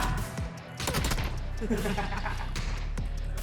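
Rapid bursts of automatic gunfire in the battle royale game PUBG, dense and loud, with a sharp volley near the middle and continuous shots throughout, under excited talk from a player.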